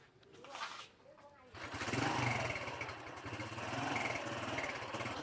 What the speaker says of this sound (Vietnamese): Đúng là tiếng chiếc xe máy này rồi.